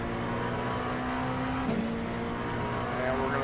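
LMP2 prototype race car in iRacing at Sebring held at full throttle, a steady high-pitched engine drone with a slight pitch shift midway, continuous and fairly loud.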